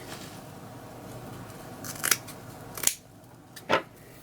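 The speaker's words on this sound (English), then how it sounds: "So I'm just going to cut the mesh" Scissors cut through deco mesh for a patriotic wreath, making three distinct crisp snips close by, spaced apart over a quiet background.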